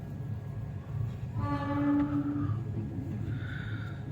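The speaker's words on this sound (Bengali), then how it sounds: "কুয়াশার জন্য ট্রেন লেটেই চলছে" Passenger train running slowly through fog near Kishanganj station, a low steady rumble with a brief mid-clip horn tone, heard from inside.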